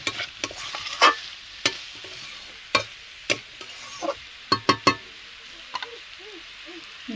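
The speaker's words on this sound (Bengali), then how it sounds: "একই সঙ্গে মশলার সঙ্গে আধা ঘন্টা মতো আমি অল্প আঁচে আমি কষে নেব।" Young jackfruit cooked down with spices over a low flame in a village kitchen, a spoon scraping and stirring in a series of sharp, irregular clatters over a soft, steady sizzle, close and loud, no talking.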